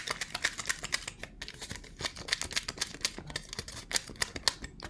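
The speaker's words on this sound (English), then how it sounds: "I'm going to take this foil and I'm going to crumple it up" Aluminium foil being crumpled by hand, a dense run of crisp crackles and rustles coming in bursts for about five seconds, close up with no talk.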